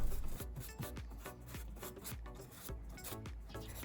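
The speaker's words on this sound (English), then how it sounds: "First, use the brush to clean all the holes from dust." A blind-cleaning brush scrubbing dust out of car ventilation grills, giving quick rhythmic close scratchy bristle strokes, repeated a dozen or so times without talk.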